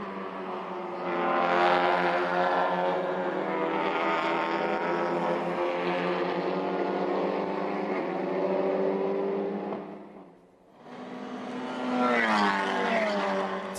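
TCR touring race cars roar past on the Cuiabá circuit, loud engine drone rising and falling as cars pass, briefly dipping before another car sweeps by.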